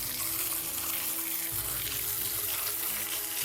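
Water rushes loudly and steadily in a nature park where a path passes behind the falling water, a continuous close roar with no talk.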